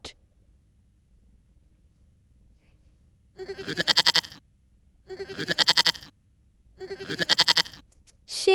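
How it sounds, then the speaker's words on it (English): Three wavering, quavering goat bleats in a row, evenly spaced after a quiet start, close and fairly loud. "goat"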